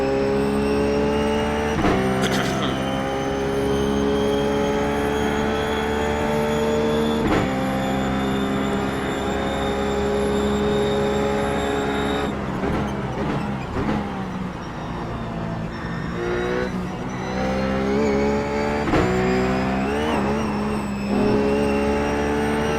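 Ruf GT3 race car engine lapping Monza in iRacing, a loud continuous in-car drone with rising revs, sharp gear-shift breaks and downshifts under braking, heard close and alone without talk.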